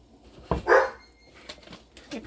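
A pet pup shut in its kennel lets out one sharp bark followed by a short whining yelp, then a few faint, distant whimpers in an otherwise quiet room.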